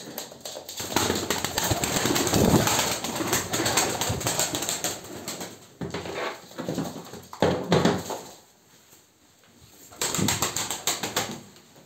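Pigeons flutter and move about in a loft, wings flapping in bursts with soft cooing mixed in, fairly close, with a brief quieter lull near the end.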